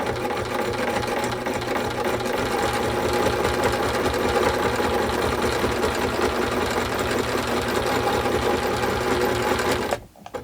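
A sewing machine runs steadily, stitching a quarter-inch seam on a small doll quilt. The motor keeps up a loud, continuous hum and rapid needle rhythm for about ten seconds, then stops abruptly.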